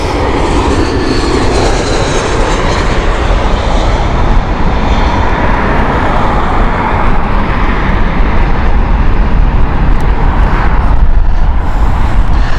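British Airways jet arriving from Inverness at Heathrow Airport, a steady loud engine roar with broad rushing noise filling the whole stretch, close and continuous without speech.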